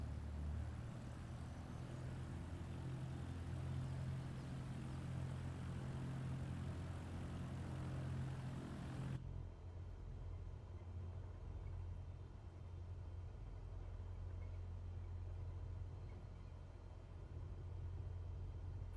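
In Microsoft Flight Simulator 2024, a Cessna heard from outside gives a soft, steady propeller-engine rumble at a distance, low and constant with a slight change in tone partway through.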